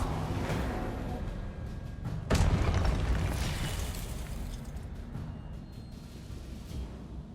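A Confringo spell explodes in the Hogwarts Legacy video game, a sudden loud boom that decays slowly into a rumbling tail over continuous game background noise, no talk.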